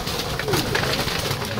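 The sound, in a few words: hungry pigeons cooing while feeding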